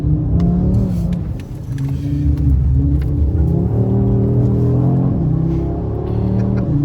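An Audi RS3 slides on a wet, rainy road, its engine revving and rising in pitch as it accelerates, loud and close with a steady rumble throughout.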